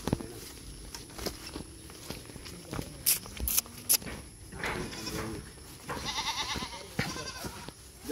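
On a rural farm in the Philippine countryside, a goat bleats several times amid nearby shuffling hoofsteps and other livestock movement, moderately close with light background noise.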